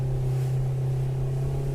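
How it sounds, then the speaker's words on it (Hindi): A speedboat motor drones steadily on tidal water in a mangrove forest, a close, constant low hum and rumble with no voices. "पानी चढ़ा और हम हुए स्पीड बोट पे सवार।"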